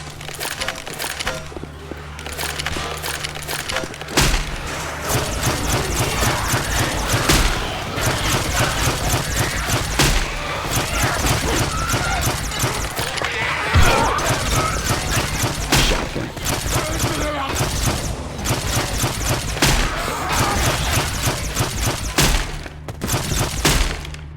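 Rapid gunfire fills a zombie shooter game, Left 4 Dead 2 on the Dead Center campaign, with dense, sharp shots cracking almost continuously, some in fast bursts, mixed with impact crashes and busy game noise throughout.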